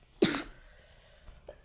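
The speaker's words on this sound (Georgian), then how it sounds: "აუ რატომ ახველებს" A single sharp cough bursts out close by, followed by a short quieter throat sound, heard during a Georgia versus France football match broadcast.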